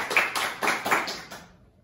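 Applause from a small audience at a biology quiz, a short burst of a few hands clapping that fades out within two seconds.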